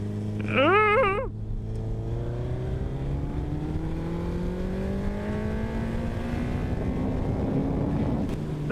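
A Suzuki Hayabusa motorcycle rides at speed, its engine drone rising steadily in pitch under heavy wind rush.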